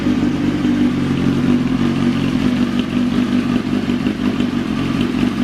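A motorcycle engine that has stood unused for several years runs steadily at idle after being restarted, loud and close with a dense mechanical clatter, fitted with two sets of silencers.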